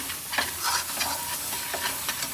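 Dry spices, salt, chili and turmeric, are stirred and roasted in a kadhai for a cabbage and peas dish, giving a close, steady sizzle with scraping stir strokes at irregular intervals.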